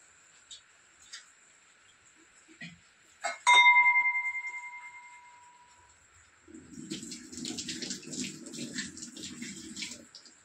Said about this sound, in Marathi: असं धुवून घेते, थोडंसं गरम पाणी टाकून घेतला का